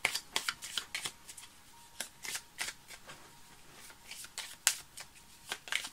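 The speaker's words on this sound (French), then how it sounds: "On va prendre maintenant le tarot de Marseille" A deck of Marseille tarot cards being shuffled by hand, giving quick bursts of riffling card slaps in irregular clusters; close and quiet, with no speech.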